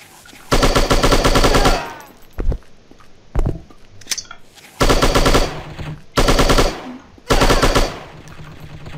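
Automatic gunfire from the commando shooter game Striker chapter 2, loud sustained bursts of rapid shots repeating about five times with brief gaps and a few single cracks between them.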